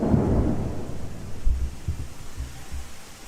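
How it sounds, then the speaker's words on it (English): Thunderstorm raging outdoors during a hard storm, with heavy low rumbling thunder rolling continuously and a few louder booming swells, steady and fairly loud with no talking. "it is storming pretty hard right now"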